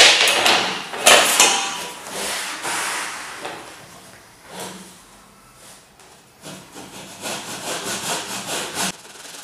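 A hand saw cuts a 45° miter in wood edging, with bursts of rasping back-and-forth strokes close up, pausing between passes and then resuming in quicker, softer strokes.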